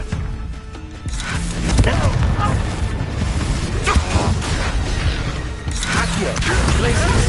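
Spell blasts and crashing impacts from the Hogwarts wizarding video game, with a burst at about two seconds amid a dense, loud mix of creaks, whooshes and thuds, alongside game dialogue.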